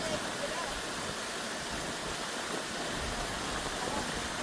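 Waterfall at Coral World on St Thomas, a steady broadband rush of falling water holding constant for the whole stretch, with faint voices beneath it.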